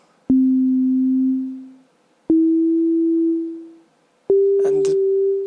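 Three rising synth tones played in sequence, each sustained and fading, with a subtle waver in pitch and a brief crackly burst over the last note.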